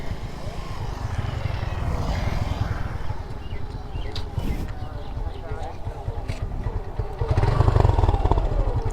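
A Suzuki Gixxer motorcycle engine runs with an uneven, rumbling idle that swells louder near the end, while someone talks over it.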